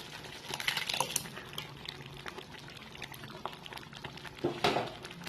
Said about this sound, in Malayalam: നമ്മളത് നന്നായിട്ട് തിളച്ച് വരുന്നുണ്ട്